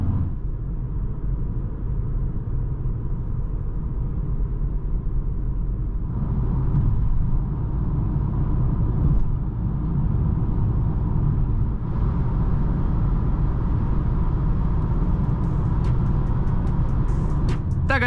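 Cabin of a 2023 Mercedes-AMG A45 S facelift while driving, a steady low road and engine rumble with tire roar that grows slightly louder partway through, no talk.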